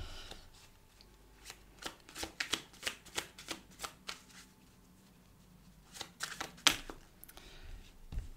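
A deck of cards being shuffled, two bursts of quick riffling clicks separated by a pause, close and quiet with no speech.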